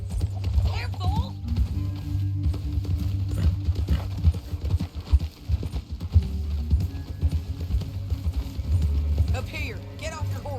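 A horse gallops in Red Dead Redemption 2 along a canyon, loud rapid hoofbeats drumming continuously under a low music bed, with a couple of whinnies and voices speaking over the ride.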